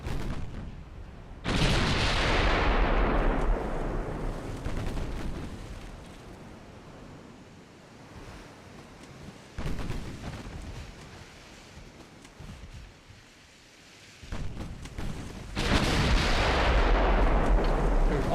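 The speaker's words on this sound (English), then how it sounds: "Fire the guns!" Big warship guns firing in the naval battle game Ultimate Admiral Dreadnoughts: loud booming salvos at the start and again near the end, with a quieter rumbling stretch and a smaller blast between them.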